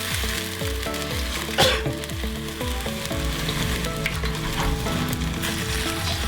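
Seblak spices frying in a hot pan as water goes in, a steady loud sizzle with bubbling and a brief louder burst partway through, no voices.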